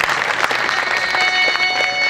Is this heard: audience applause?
yes